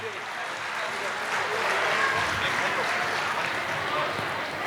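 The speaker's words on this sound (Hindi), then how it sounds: "अब जोरदार तालियां एक बार हो जाए इन सभी के नाम" An audience at an inauguration ceremony of the International Saraswat Brahmin Mahasammelan in Jodhpur, Rajasthan breaks into loud, sustained applause, a dense wash of clapping filling the hall without pause.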